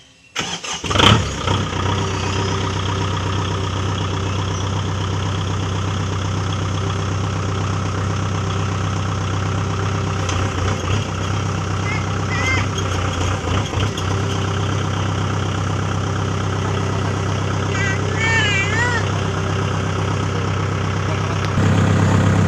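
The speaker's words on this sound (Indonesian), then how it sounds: "Oke, sekarang saya akan coba kasih nyala mesinnya." A Kioti DK4510 four-wheel tractor engine cranks and fires right at the start, then settles into a steady, close idle that rumbles on for about twenty seconds, rising slightly near the end, with no voices.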